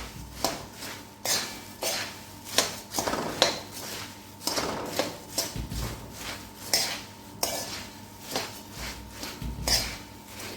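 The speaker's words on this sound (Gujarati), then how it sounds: "હળદર પણ સેજ ગરમ થઈ ગઈ છે તેમાં મમરા ઉમેરી દઈશું અને મિક્સ કરી લઈશું" Metal spoon scraping and clinking against a pan as puffed rice is stirred in hot oil with turmeric, in irregular repeated strokes, close and fairly clear.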